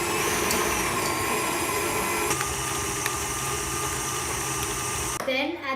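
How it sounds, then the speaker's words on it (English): Electric mixer beating butter and sugar until creamy for chocolate chip cookie dough, a steady whirring motor hum with slight pitch shifts, then cutting off near the end. "beat the butter and the sugar until nice and creamy"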